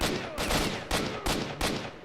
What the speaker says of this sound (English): And yet someone is still shooting at me through this brick wall here.